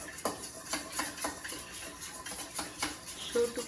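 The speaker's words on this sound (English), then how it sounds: "stir it up with our trusty old spoon" A trusty old spoon stirs a mixture with added water for crunchy sweets, giving a run of regular, fairly close scraping clicks and taps against the bowl, steady in rhythm, with no talk.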